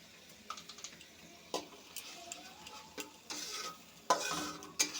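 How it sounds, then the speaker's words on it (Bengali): Turmeric and coriander spice paste stirred and fried in a pan for a fish curry with potato and pointed gourd, a utensil scraping in irregular strokes over a soft steady sizzle, with louder clattering scrapes toward the end. "হলুদের গুঁড়ো, মশলাটা একটু কষিয়ে নেব।"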